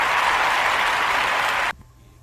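A studio audience bursts into dense, steady clapping, loud and close, then cuts off abruptly near the end, leaving faint room tone.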